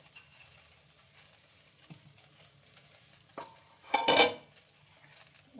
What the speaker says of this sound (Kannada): ಈ ಲೋಳೆ ಎಲ್ಲ ಬಿಡೋವರೆಗೂ ಫ್ರೈ ಮಾಡ್ಕೊಳ್ಳಿ ಚೆನ್ನಾಗಿ.